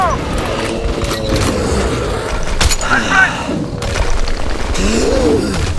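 Gunfire and explosions in the first-person shooter Metro Last Light Redux: loud booms, crashes and mechanical clatter in bursts, with voices shouting over the game sounds.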